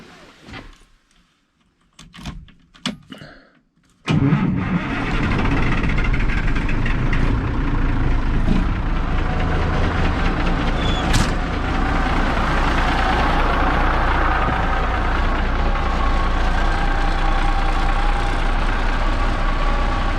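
A truck engine turns over and catches after a few sputtering attempts, then settles into a steady, loud, rumbling idle that continues to the end.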